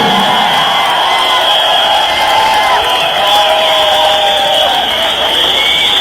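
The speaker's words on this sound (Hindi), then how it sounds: "और ये सब खड़े होकर जोरदार तालियां सबके लिए बजनी चाहिए" A crowd at a business celebration event cheers and whoops loudly and continuously, with a steady piercing tone ringing through the noise for the whole stretch.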